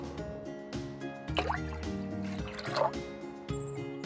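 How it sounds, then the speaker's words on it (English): Water pours into a pot of millet porridge in short splashing bursts with drips and plops, fairly faint and close, alone without voices. "To this, I am adding 5 more cups of water."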